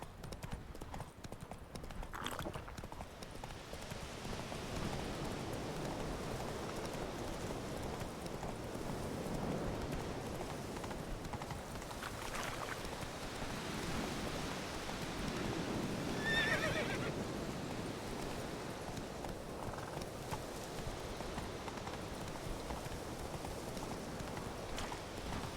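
A horse gallops with continuous rhythmic hoofbeats and neighs at moments in The Witcher 3: Wild Hunt, the clip-clop steady and mid-level throughout with some wind-like rushing.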